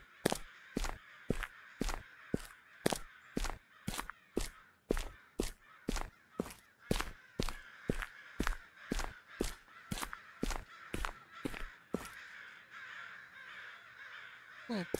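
A steady run of loud crow caws in the horror game Okaeri repeats rapidly, one after another for about twelve seconds, then gives way to a softer ambient hiss.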